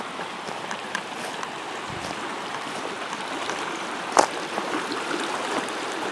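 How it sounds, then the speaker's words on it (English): Jackson Creek running full at a campground in the Klamath Marsh area, a steady broadband rush of flowing water close by, continuous and even throughout with one brief knock partway through and no talking. "Creek is pretty full here."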